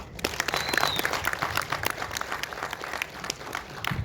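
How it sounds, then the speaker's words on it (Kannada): An audience applauding at an audio launch event for a Kannada romantic album song, dense continuous clapping from many hands throughout, fairly close and steady. "ನಿಮ್ಗೆಲ್ಲರಿಗೂ ಒಂದು ಚಪ್ಪಾಳೆ ಬರಲಿ ಪ್ಲೀಸ್"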